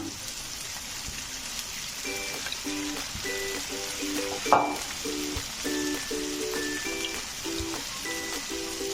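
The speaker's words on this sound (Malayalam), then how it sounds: "ഇത് നന്നായിട്ട് ഫ്രൈ ആയിട്ട് നമുക്ക് കിട്ടിയിട്ടുണ്ട്" Battered cauliflower pieces for gobi manchurian deep-frying in hot oil over moderate flame, a steady close bubbling sizzle with one brief louder crackle partway through, no voices.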